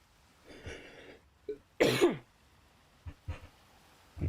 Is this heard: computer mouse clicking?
no